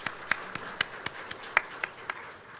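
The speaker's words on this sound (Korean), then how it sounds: "잘 자라라고 박수로 한번 격려하도록 하겠습니다." A church congregation giving brief applause during a Sunday service, light and scattered claps at an uneven pace, fairly faint and distant.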